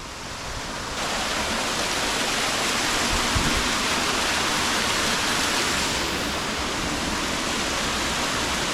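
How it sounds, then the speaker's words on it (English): A big waterfall drop along a walkway near Aberfeldy, Scotland, roars as steady broadband rushing water, loud and continuous throughout with no voices. "Big mad waterfall drop."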